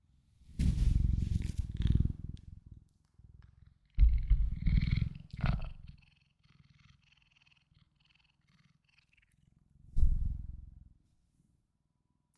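Cleo, a pet cat, makes low rumbling purr-like vocalizations in a few short bursts separated by quiet gaps, close to the microphone and fairly faint, with one brief higher squeak in the middle.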